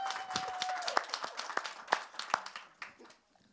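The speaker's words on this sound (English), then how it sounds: "Give me a clap." A small panel audience gives a short, sparse round of clapping, individual claps distinct and fairly quiet, thinning out and stopping after about three seconds.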